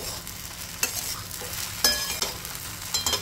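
Sabudana khichdi with crushed peanuts being stir-fried in a pan, a steady close sizzle broken by a few sharp scrapes of the spatula, no voices.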